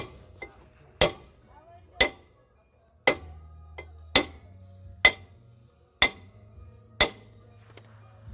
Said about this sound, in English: you just keep hitting it, kind of bang it all the way around until it budges loose